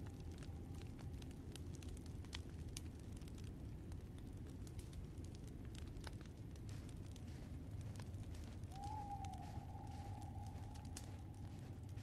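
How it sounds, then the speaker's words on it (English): Campfire in The Walking Dead game crackling steadily, with dense sharp pops and snaps over a low rumbling bed, plus a faint sustained whistle-like tone partway through. "It's so much nicer by the fire."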